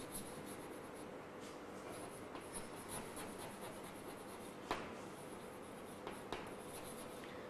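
Faint, steady scratching of a pen writing on a board during a Class 8 chemistry lesson, with a couple of sharper strokes standing out, quiet and without talk.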